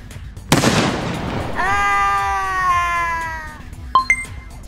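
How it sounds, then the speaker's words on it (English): A cherry bomb goes off in one sharp, loud blast with a hissing decay, followed by a wavering, whiny tonal cry and a couple of short pops. "Are you guys ready for my cherry bomb?"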